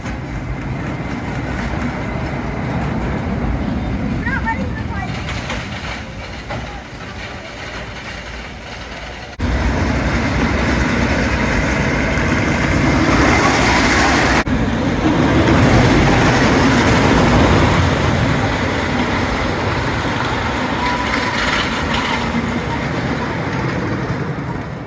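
Renegade, the wooden roller coaster at Valleyfair, rumbles through its ride with a continuous roaring clatter of the train on the track, swelling louder after the first stretch and staying intense and close throughout.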